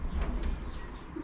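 Pigeons coo softly at close range, a low rolling murmur over a steady background rumble.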